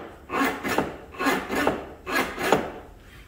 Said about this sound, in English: the noise kind of gives it a realistic, like it's unlatching something